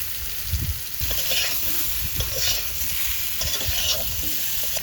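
Dry chilies sizzle while tempering in hot oil for cooking rui fish, a steady bright crackle with occasional stirring scrapes, close and continuous with no talk.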